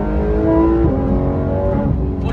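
A supercar engine revs hard and loud, its pitch climbing and shifting with strong harmonic tones, sustained close-up for the whole stretch.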